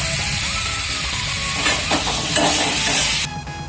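A small whole chilli hits hot oil in a pan, bringing a loud, steady sizzle and frying hiss with a few stirring scrapes before the sizzling drops off abruptly.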